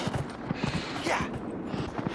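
Horse hooves clip-clop at a steady riding rhythm in Dragon Age Inquisition, the muffled thuds close and even, repeating several times under a soft ambient wash.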